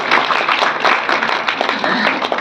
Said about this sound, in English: a round of applause please for the head of department